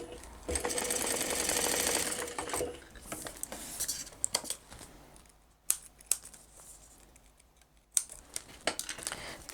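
A sewing machine stitches a 6 mm seam down the sides of a cross body bag, a fast whirring run for about three seconds, then quieter handling clicks and a few short bursts of stitching.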